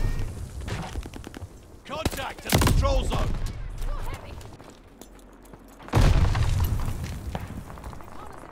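Grenade explosions in the video game Vanguard burst out as two loud, heavy booms amid crackling gunfire, with voiced in-game callouts heard between the blasts.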